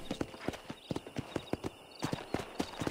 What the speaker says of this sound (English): A rare and agile horse.